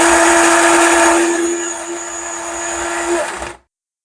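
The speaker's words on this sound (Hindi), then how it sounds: "इसको हम ग्राइंड करेंगे और ग्राइंड करके आपको दिखाते हैं" Whole spices being ground in an electric grinder for homemade degi korma masala: a loud, steady high-pitched whirring motor drone that runs for about three and a half seconds, then cuts off abruptly.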